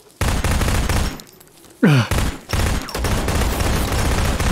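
Rapid automatic gunfire in the survival shooter ZERO Sievert comes in loud bursts with a short pause and a sweeping tonal sound between them, the weapon kicking hard as it fires.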